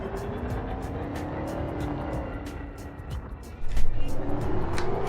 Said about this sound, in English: Engines engaged.